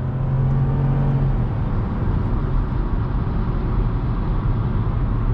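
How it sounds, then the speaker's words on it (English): A 2021 Chevrolet Trailblazer with a 1.3L turbo engine and CVT transmission accelerates onto a highway, a steady loud cabin drone of engine and road noise with a faint whine early on, no voices. "Let's accelerate onto the highway here."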